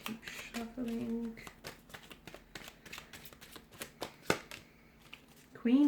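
Tarot cards being shuffled repeatedly in quick riffling bursts, close up, with a few sharper taps and a brief voice near the end.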